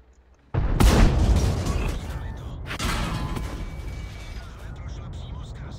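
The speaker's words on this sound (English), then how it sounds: "what I'm gonna do is I'm just gonna come into this bush and start shooting him" A tank cannon fires in World of Tanks with a loud, sudden blast that booms and rumbles on, followed by a second heavy report with a long decaying tail.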